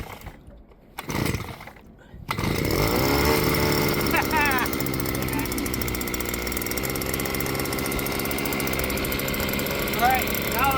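A small 2.3 HP outboard boat motor for a kayak pulled over with a choke, catching after a couple of rough bursts and then running at a loud, steady idle close by, with voices faintly underneath.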